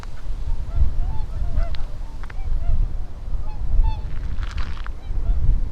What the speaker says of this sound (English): Can you hear the swans?